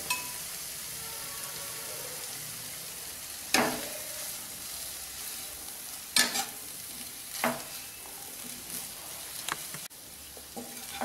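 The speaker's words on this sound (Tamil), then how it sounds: "நீங்கள் கிண்டும்போது ரொம்ப ஸ்மூத்தாக கிண்டணும்." Two ladles gently turn egg biryani rice in a pot, giving soft scraping sweeps with several distinct metallic scoops and clinks over a faint cooking hiss, close and unaccompanied by voices.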